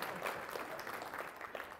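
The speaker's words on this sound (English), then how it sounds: "let's give them a round of applause" A small audience claps for mentoring participants, a brief, quiet patter of applause heard from a distance.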